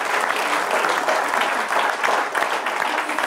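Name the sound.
audience applause in a studio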